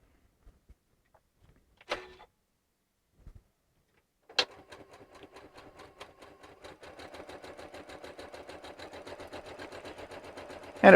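A sewing machine stitches a quarter-inch seam with the fabric edge set against an edge guide, starting after a few soft clicks and handling sounds, then running as a steady, close mechanical chatter that builds in speed and loudness, alone without voices.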